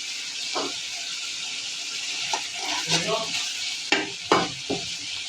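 Tilapia pieces go into a pan with tomato and green chillies, raising a steady hiss of sizzling oil with a few scraping stir strokes and clatters toward the end.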